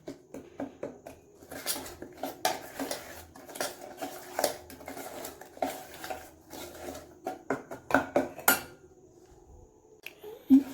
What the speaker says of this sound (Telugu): ఇప్పుడు ఇది ఉల్లిపాయ, పచ్చిమిరపకాయ పిండి వేసి కలిపేసుకుందాం